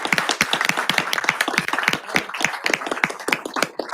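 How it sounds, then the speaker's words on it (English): Room of sixth graders and adults at a school district planning meeting clapping together, a dense, steady round of applause with sharp individual claps throughout, fairly close and loud, no talk over it. "Let's give the sixth graders a round of applause."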